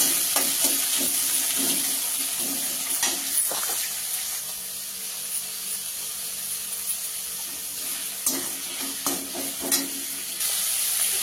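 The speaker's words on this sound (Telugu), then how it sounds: "వీటన్నిటిని అయితే వేసుకోవాలి. వేసి చక్కగా అయితే ఫ్రై చేసుకోవాలండి." Chopped onions fry in a pan for a moringa leaves stir-fry, giving a steady, close hiss of sizzling oil broken by occasional scrapes of stirring, with no talking.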